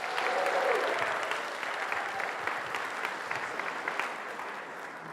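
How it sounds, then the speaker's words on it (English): Orientation audience at a university giving the staff a round of applause, steady crowded clapping across the room that stays fairly even and slowly tapers. "And can we get another round of applause for these folks?"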